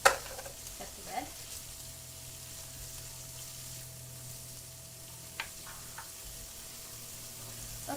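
Zucchini and red pepper cook in a soup pot, giving a low steady sizzle with a few faint stirring clicks and no talk.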